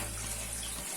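Water runs from a Sintex plastic tap as the supply arrives, making a steady broadband rush that fills the whole short moment.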